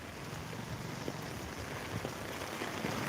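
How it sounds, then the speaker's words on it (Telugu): Heavy rain falling in Velichala village during a storm, a dense, even hiss of drops that runs unbroken throughout. "వర్షం కొంచెం ఒత్తుగా అయింది"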